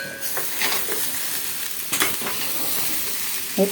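Fried peanuts being tipped into kanda poha and stirred in a hot pan, giving a steady sizzling, scraping hiss with a few brief louder scrapes of stirring, close and continuous.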